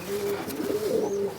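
A large female Parel pigeon coos close by in a short, soft, rolling burst, with no talking over it.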